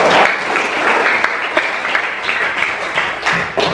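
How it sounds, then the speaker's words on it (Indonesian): A crowd claps in steady applause for a few seconds, dense and fairly loud, with no talking over it. "tepuk tangan."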